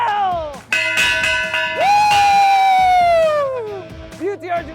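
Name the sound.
bell being rung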